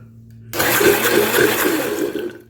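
A blender coarsely grinding cooked dal with garlic and onion starts abruptly after a moment of quiet, then runs as a loud, steady whirring grind to the end.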